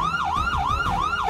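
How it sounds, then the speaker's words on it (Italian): A police siren in a video game wails loudly in quick rising-and-falling sweeps, about three full cycles, heard alone. "Sento la polizia."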